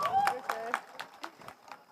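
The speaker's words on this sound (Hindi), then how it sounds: "मैं चाहूँगा आप लोग एक बार मेरे बाबू के लिए ताली बजा दीजिए।" Applause from an audience at a stage show comes as quick, evenly spaced claps about four per second, fairly close and fading slightly, with a voice briefly heard at the start.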